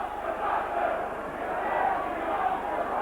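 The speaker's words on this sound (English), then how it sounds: "The popular side crowd don't like it." A rugby league crowd at St Helens v Leeds murmurs and jeers in a steady, broad roar across the stands, sustained and fairly distant with no single voice standing out.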